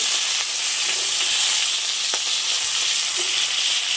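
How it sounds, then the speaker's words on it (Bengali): Tengra fish frying in a covered pan with potatoes and tomatoes nearby, giving a steady loud sizzle with scattered sharp pops and spatters, heard alone without talk. "মাছগুলো ঢাকা দিয়ে দিয়ে ভেজে নিচ্ছি বন্ধুরা। মাছগুলো তো খুব ফাটে।"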